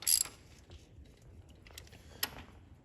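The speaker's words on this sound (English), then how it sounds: "I'm gonna go ahead and just snug those with a ratchet" Ratchet working bolts on a Kubota BX2380 tractor during a PTO repair: a sharp metallic clatter at the start, then faint, intermittent mechanical clicks with a brief bright tick near the end.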